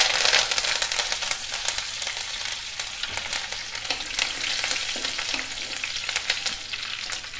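Curry leaves sizzle hard in hot oil with garlic and chillies for a dal spinach curry, a loud continuous crackling fry with light stirring scrapes throughout.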